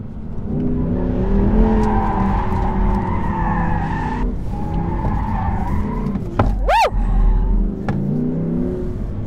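An Audi R8 RWS spins on a handling course, its tires skidding and squealing loudly and continuously as the engine howls, with a sharp rising and falling tire shriek near the end.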